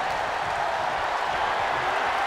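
Crowd noise in a wrestling video game, a steady, loud wash of cheering arena ambience with no distinct voices or breaks.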